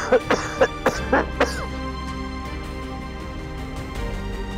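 Several sharp coughs in quick succession at the start, close and fairly loud, followed by a quieter low background hum with no further coughing.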